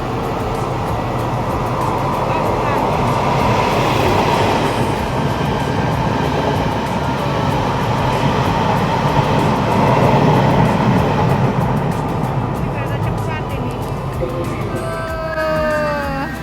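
A train rumbles steadily through Nangang metro station in Taiwan, a continuous loud roar with faint squeals of wheels near the end.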